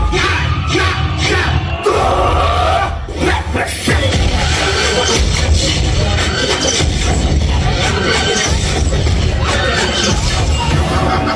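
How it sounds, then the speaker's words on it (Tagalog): A loud crowd at a festival dance competition shouts together continuously, with dense yelling and cheering throughout and brief dips in volume. "sabay-sabay sumigaw."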